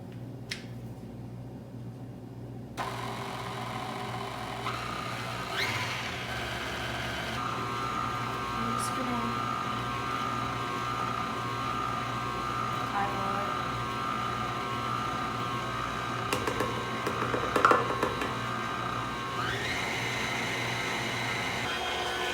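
A stand mixer kneads pretzel dough in a home kitchen, its motor whirring steadily at a moderate level for the full stretch, with a few brief clicks and knocks and no one talking.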